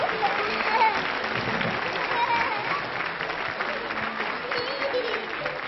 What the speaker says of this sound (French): on applaudit, monsieur dame